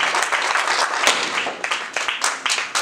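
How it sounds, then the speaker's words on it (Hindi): Audience applause, a dense crowd clapping steadily and fairly loudly for a few seconds. "क्या तालियां हैं करोड़ के लिए?"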